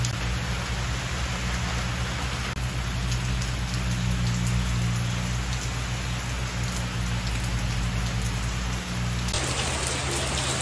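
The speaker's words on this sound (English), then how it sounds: "It rains every day, and I still use my bike every day. Even though it's raining" Steady, dense rain falling continuously on surfaces outdoors during the rainy season, a loud even hiss with a low hum underneath and a brief change in tone near the end.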